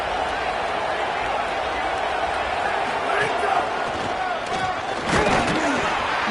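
Dense, steady crowd roar from a packed stadium in an NCAA 27 football video game, loud and continuous with a swell near the end, with a commentator's voice running over it.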